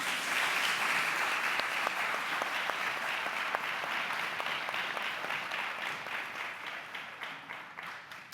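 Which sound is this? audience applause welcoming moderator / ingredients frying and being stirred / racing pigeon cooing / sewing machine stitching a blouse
audience applause welcoming moderator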